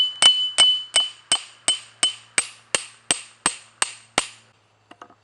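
A spike hammer is driven firmly into a tree-stump anvil for a makeshift smithy, eleven sharp, ringing metallic blows in a steady rhythm, close and loud, followed by a few faint clinks.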